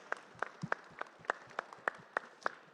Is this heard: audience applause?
yes